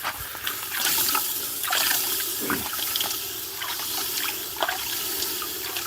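A hammer head, hot and oily from rehandling, is dipped into water, giving a continuous trickling, bubbling wash of liquid at close range with a few louder splashes and no talking.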